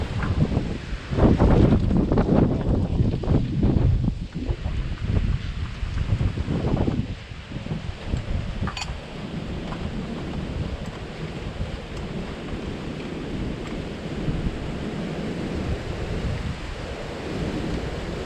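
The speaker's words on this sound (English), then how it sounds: "The wind was whipping so bad, I had to pause it for a minute." Strong wind buffets the microphone outdoors during an oil change, loud roaring gusts at first that ease into a steady, lower rush.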